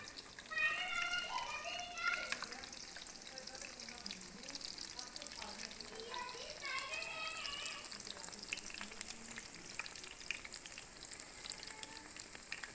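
Eggplant pakoras fry gently in oil over a low flame, a soft steady sizzle and crackle running beneath a person talking.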